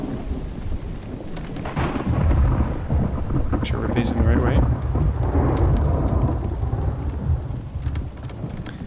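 Steady heavy rain pours through a stormy night in the video game The Infected, with deep thunder rolling and rumbling continuously underneath; a person speaks briefly over the storm.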